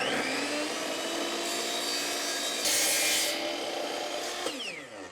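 A miter saw cuts thin aluminum trim backed with a piece of wood, giving a close, loud, continuous whining rasp for about four seconds with a harsher burst in the middle before it spins down.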